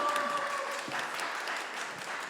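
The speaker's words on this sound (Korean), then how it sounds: "박수로 좀 부탁드리겠습니다." Brief applause from the audience at a Chuncheon citizens' school forum and talk concert, a moderate, even patter of many hands clapping at a steady level.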